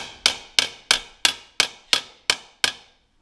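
Eight evenly spaced metallic taps of a small hammer on an anvil, each ringing briefly before the next.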